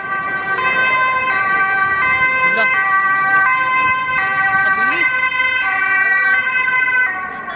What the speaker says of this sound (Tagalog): May dadaan na ambulansya, guys.